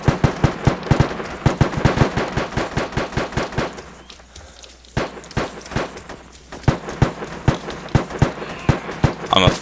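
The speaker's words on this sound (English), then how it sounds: "Definitely gunshots to the left there." Rapid bursts of video game gunfire crack in quick succession, sharp and loud, with a short lull midway before the shots resume, heard without any talk over them.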